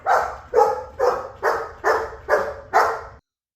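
A protection dog barks seven times in a steady, evenly spaced run of loud, close, deep barks, then stops abruptly into silence.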